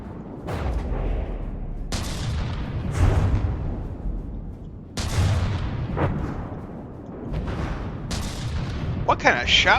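Tank cannon shots in a landship battle game, Ogun versus Itztli: several heavy booming blasts with long rumbling tails, spaced about every two to three seconds, loud and near, with faint talk underneath.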